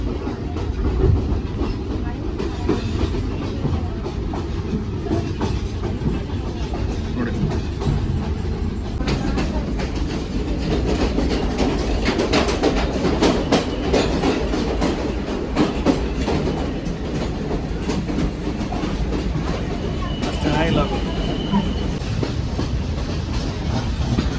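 A local train in Sri Lanka rumbles along with a continuous low roar and rhythmic clickety-clack of wheels over rail joints, heard from inside the carriage and staying loud throughout.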